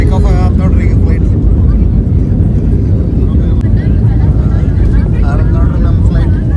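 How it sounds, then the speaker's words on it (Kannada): Jet airliner on its takeoff run on a Bengaluru to Goa flight, heard from inside the cabin: a loud, steady engine roar with a deep rumble that holds throughout. "ಟೇಕ್ ಆಫ್ ಆಗತ್ತೆ ನೋಡ್ರಿ ಈಗ ಫ್ಲೈಟ್."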